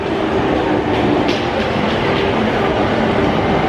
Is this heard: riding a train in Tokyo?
yes